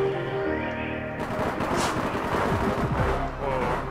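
Rapid gunfire in APB Reloaded from a shooter up on a rooftop, dense bursts of shots over steady game music and engine drone.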